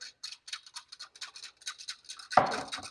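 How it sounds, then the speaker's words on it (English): A whisk beating a cornstarch mixture for coconut pie filling, quick rhythmic scraping strokes repeating close up, with a sharper knock near the end. "So we're going to whisk this together."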